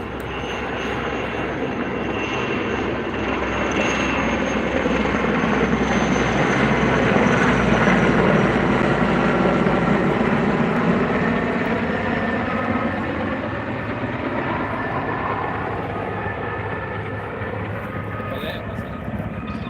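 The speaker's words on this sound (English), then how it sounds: "Here comes that chopper. Let's see if it's got water." A helicopter drones steadily overhead while fighting a wildfire, its engine and rotor noise loud and continuous for the whole stretch, swelling slightly as it passes nearer, with people talking beneath it.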